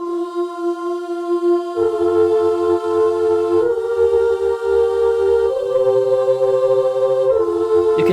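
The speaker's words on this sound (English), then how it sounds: "You can hear the distortion comes in on the second part" A 70s soul-style sample processed with a stock Logic distortion plugin, a sustained tonal chord progression whose bass and gritty distorted layer enter partway through, playing continuously and fairly loud.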